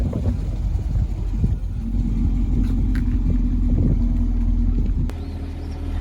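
A Chevrolet Camaro's 6.2-liter V8 engine idles with a deep, steady rumble close by, a low tone holding through most of the span before settling slightly.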